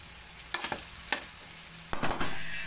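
Onion hitting hot oil in a pan while cooking salmon head sinigang, giving a few sharp sizzling bursts followed by a steady, fairly quiet frying hiss.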